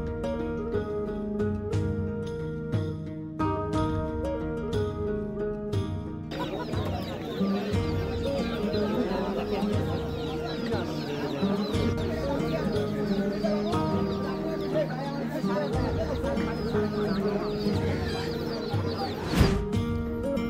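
Chickens cluck steadily at a busy village livestock market in Sonargaon alongside geese, pigeons and other birds, a dense continuous din of poultry calls with crowd noise throughout, a sharp thump near the end.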